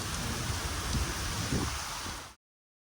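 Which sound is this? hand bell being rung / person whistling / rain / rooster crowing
rain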